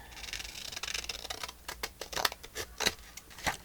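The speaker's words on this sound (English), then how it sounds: "So, let me cut this part out" Scissors snip through paper to cut out a part for a handmade pocket with a window flip, giving a run of short, crisp close-up clicks and rasps in quiet surroundings.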